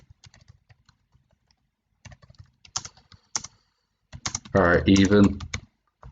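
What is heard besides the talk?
typing on a computer keyboard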